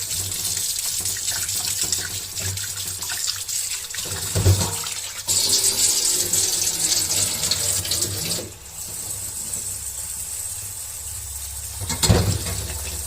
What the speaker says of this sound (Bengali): এখন চাউল কটা ধুয়ে দেব।